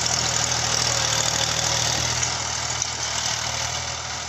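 A New Holland 3032 tractor with a 35 hp engine, pulling a tiller, runs steadily and loudly up close, a constant low diesel rumble with a faint knocking texture and no speech.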